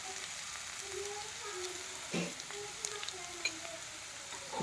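Green chillies and a quarter spoon of turmeric saute in hot oil with a soft, steady sizzle, interrupted by a few brief scrapes and knocks of stirring, and no voices.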